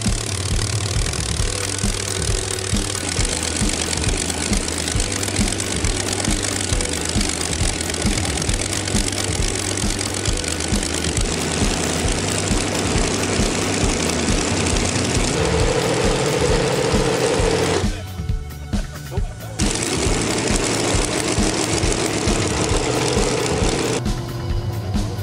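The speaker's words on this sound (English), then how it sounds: "The legendary 27-liter V-12 from World War II, used in the Spitfire, Hurricane, Mosquito, and even American Sherman Firefly tanks." A 27-liter V-12 World War II aero engine of the kind used in the Spitfire, Hurricane and Mosquito runs loud and close with a throbbing, pulsing rumble, briefly cutting out before firing back up.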